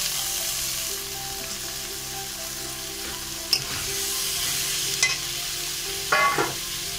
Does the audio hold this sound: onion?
yes